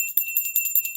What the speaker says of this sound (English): we're gonna ring the bell anyway